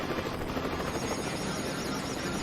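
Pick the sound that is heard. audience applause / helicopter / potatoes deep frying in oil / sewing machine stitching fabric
helicopter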